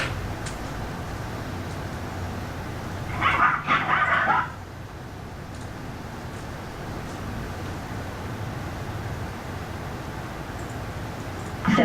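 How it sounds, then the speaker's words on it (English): Dogs in a puppy mill housing a couple hundred breeding dogs give a brief cluster of yips and barks partway through, somewhat distant under a steady wash of hissing background noise. "you've got a couple hundred breeding dogs in here"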